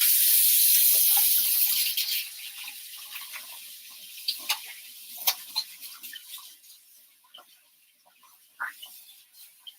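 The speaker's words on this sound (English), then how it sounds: "I'm gonna rinse my hands real quick" Tap water runs loudly into a sink for about two seconds while hands are rinsed, then cuts off, leaving scattered drips and small splashes.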